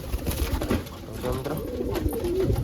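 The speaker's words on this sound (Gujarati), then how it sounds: "જો કબૂતરા આવડા આવી ગયા છે." Pigeons cooing at a home loft setup, soft repeated low coos over a steady bed of fluttering and ambient rustle, moderately near with no talk.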